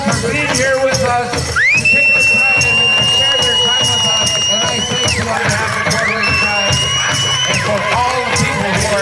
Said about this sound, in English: let's give the non-Native people a round of applause for being here with us.